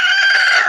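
A single short, loud chicken call, a sustained tonal squawk lasting under a second and fading out at the end.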